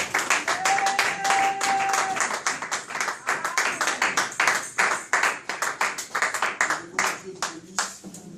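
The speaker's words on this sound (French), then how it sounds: "On acclame pour la parole du Seigneur." A church congregation claps and applauds together at a Sunday service, a dense, steady patter of many hands that turns into slower rhythmic clapping near the end, with some voices mixed in.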